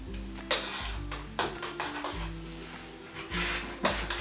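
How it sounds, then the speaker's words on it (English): A spoon stirs jelly into strawberry filling for a tartlet, making soft repeated rubbing and scraping strokes against the bowl, close and quiet, with no voices. "Put the jelly in it. Stir it?"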